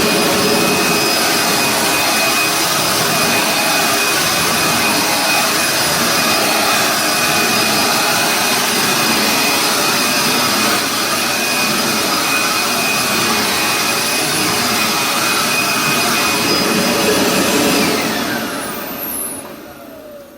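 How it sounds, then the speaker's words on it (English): A Dirt Devil Extra Light Bagless vacuum cleaner runs at close range, a loud, steady high-pitched whine with a whooshing motor roar that holds evenly for most of the time before winding down at the end. "this is the loudest vacuum in my collection"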